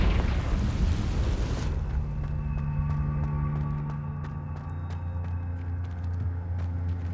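Confringo fire spell blast in Hogwarts Legacy gameplay: a loud booming burst at the start, settling into a low rumbling tail with steady game tones and scattered faint clicks, no voices.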